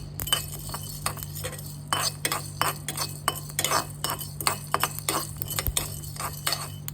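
Black pepper and cumin dry-roasting in a pan for paruppu podi, with rapid rhythmic scraping and tapping of a spoon against the metal pan over a faint low hum, close and fairly quiet, no talking.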